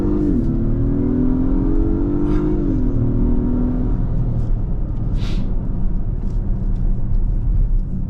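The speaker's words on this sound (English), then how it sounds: "I'm gonna pop it back into sport mode and give it the beans" An Acura MDX Type S in sport mode pulls hard, with the engine note climbing steadily and then dropping at a shift while road rumble and wind whir fill the cabin, close and loud throughout.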